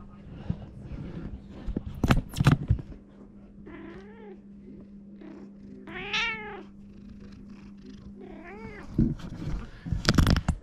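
A cat in a garage beside a BMW meows several times, with drawn-out wavering calls in the middle, amid close clatter and knocks and a steady low hum.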